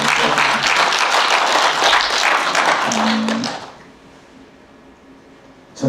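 Audience applause at a Korean talk event honoring a photographer, a loud sustained burst of many hands clapping for several seconds before it cuts off into near silence, with a faint sound at the very end.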